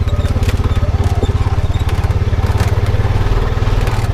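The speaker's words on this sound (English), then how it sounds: "it sounds just like the baffle inside the muffler's coming loose inside it" A Honda Pioneer 520 side-by-side idles cold, and its loose muffler baffle gives a rapid, even metallic rattle that pulses through the close, steady engine note.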